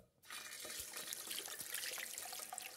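Tap water runs steadily into a sink as hands are washed with soap after using the toilet, a continuous close splashing hiss that starts abruptly and carries on throughout, with no talking.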